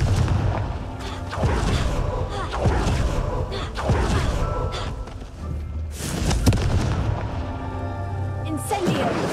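Booming blasts of the Confringo exploding spell in Hogwarts Legacy, several heavy thumps spread through a busy stretch of game combat with a voice calling out spells over the top.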